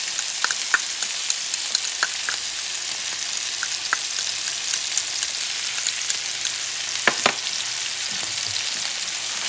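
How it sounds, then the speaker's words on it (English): Garlic and beef cubes sauté in a hot pan with a steady, close sizzle, broken by a few sharp clicks and scrapes of stirring, with no voices. "Saute this baby. Add the garlic on top."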